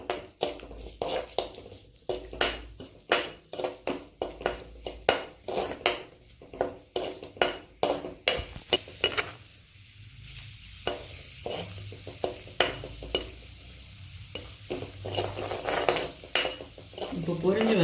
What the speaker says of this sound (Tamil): அதில் முந்திரி பருப்பு, திராட்சை, ஏலக்காய் எல்லாம் போட்டு நல்லா செவக்க வறுத்துக்கணும்